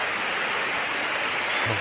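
Etamanuguda waterfall pours in a steady, dense broadband roar, loud and continuous throughout with no voices.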